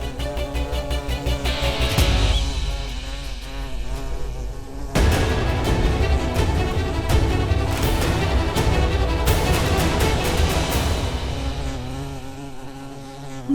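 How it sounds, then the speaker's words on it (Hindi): A bee buzzes indoors in a dramatic television serial scene, a loud, continuous droning hum that swells and pulses over about thirteen seconds with no speech. "मधुमक्खी, मधुमक्खी कहां से अंदर आई?"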